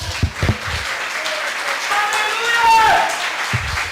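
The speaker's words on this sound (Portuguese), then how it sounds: "Ninguém vai aplaudir ao Senhor?" A church congregation applauds in a soft, sustained patter of clapping, with voices calling out over it and a few louder low thumps near the start and end.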